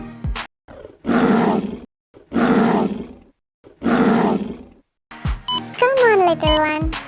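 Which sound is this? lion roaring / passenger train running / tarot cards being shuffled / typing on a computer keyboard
lion roaring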